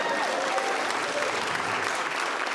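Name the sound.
audience applause at stand-up comedy show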